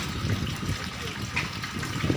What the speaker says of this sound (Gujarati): આ જે નદી છે તે આખી ભરાઈને જાય છે